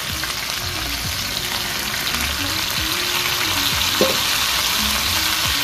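Potatoes and carrots fry in a pan alongside chicken, producing a loud, dense, steady sizzle broken by occasional scraping stirs, with no voices.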